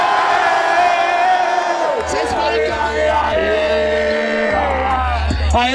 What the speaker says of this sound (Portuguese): barulho pro pai do Big Mike